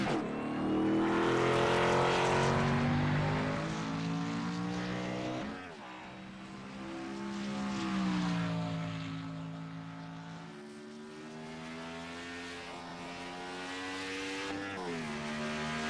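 A Gen 4 stock car engine at Darlington in iRacing roars continuously on track, its pitch rising and falling through gear changes and corners, loud and steady for the whole stretch.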